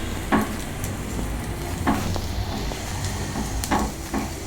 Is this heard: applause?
no